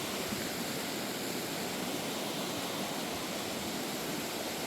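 River water rushing steadily nearby in the Canadian Rockies, a dense, even wash of flowing water that fills the whole stretch with no talking over it.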